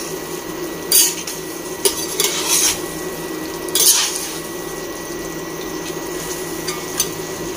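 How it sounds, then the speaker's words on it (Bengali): Spiced mutton is stirred and fried in a pot, with a spoon scraping and clanking against the metal in a few sharp knocks over a low, steady background. "আমি সব কিছু দিয়ে, মশলাটা দিয়ে মাংসটা আর একটু কষে নিচ্ছি।"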